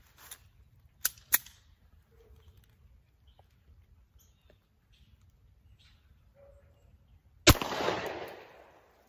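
A single sharp 9mm pistol shot fired through a chronograph rings out loud and close, followed by a fading echo, after long quiet stretches with a couple of faint clicks and thuds earlier.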